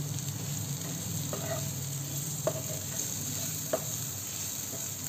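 Capsicum goes into a pan of softened frying onions, giving a continuous moderate sizzle with a few faint clicks of stirring scattered through it, and no talking.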